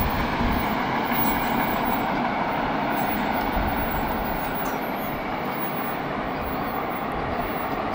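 A CSX freight manifest train carrying Wisconsin Southern boxcars rolls past nearby, a steady loud broadband rumble of wheels and cars that holds constant throughout with no voices.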